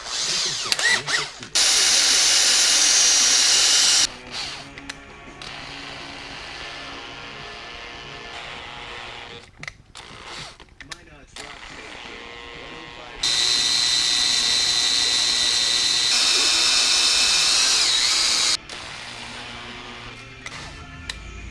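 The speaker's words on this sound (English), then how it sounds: "now it's time to drill those holes in there." A high-pitched power drill whirs in two bursts of a few seconds each, drilling 2.5 mm holes for a 1/14 scale lowboy trailer, close by, with clicks, handling noises and quiet stretches between.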